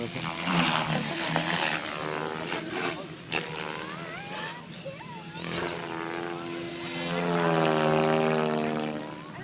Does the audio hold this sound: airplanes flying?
yes